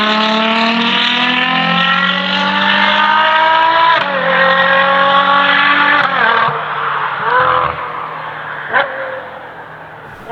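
A Ferrari Purosangue fitted with Novitec sport rear mufflers revs loudly and up close, its engine note climbing in steady pulls with rich harmonics before easing off near the end, with no talking over it.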